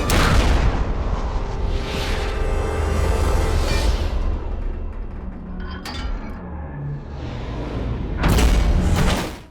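Heavy sniper rifle shots from Deadshot in a Batman Arkham Origins trailer fight: several loud, booming blasts land a few seconds apart over a dense, roaring bed of battle noise, with one sharper crack midway and no voices.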